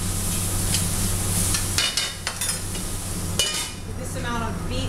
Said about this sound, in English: stir the beets here.